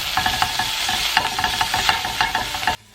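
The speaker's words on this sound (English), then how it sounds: "So I'm going to give this a little stir." Rice frying in a pot is stirred, with a spoon scraping in quick repeated strokes over a steady sizzle before the sound cuts off abruptly.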